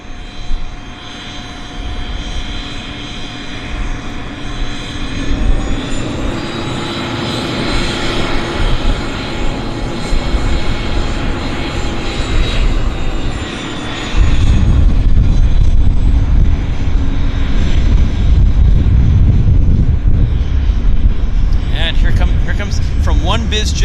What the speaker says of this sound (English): Bizjet that's going out.